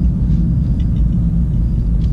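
A Mercedes-AMG GT S engine rumbles deep and loud from inside the moving car, a steady low drone with a few faint crackles from the exhaust.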